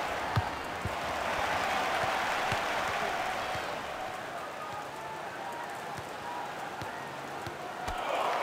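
A stadium crowd in the Dream League Soccer 2016 football game roars and cheers in a dense, continuous wash that stays loud and steady throughout, with faint clicks and thumps underneath.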